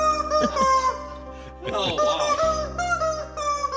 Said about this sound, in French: C'est une poule de jouet de chien qui fait ça.